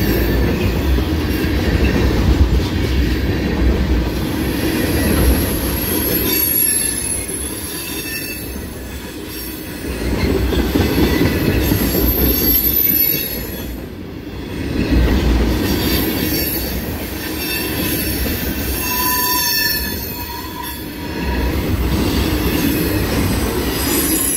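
A long freight train with many tank cars rolls steadily past up close, wheels rumbling and squealing on the rails, with rhythmic clacking as cars go by.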